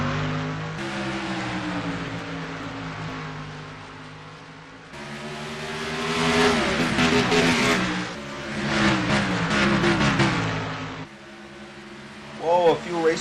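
Race cars at Bristol Motor Speedway roar off at the green flag, a loud engine note that rises and swells in waves as the field accelerates, with a commentator talking over it throughout.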